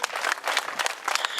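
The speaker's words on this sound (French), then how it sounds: "Allez, on l'applaudit." A crowd at a junior cycling race podium in Brittany applauds the winner, with dense, steady clapping throughout and a faint voice underneath.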